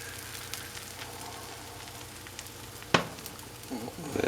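Crepe batter made from pancake mix sizzles in a hot oiled pan, a soft steady frying hiss with a sharp clatter near the end and brief louder bursts after it.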